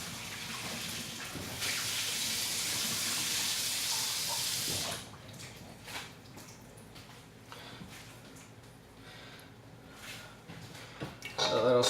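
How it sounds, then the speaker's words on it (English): Cold tap water gushes steadily into a pan for several seconds while cooking udon with butternut squash, then stops, leaving quieter kitchen clatter and small splashes. "Put in some cold water there."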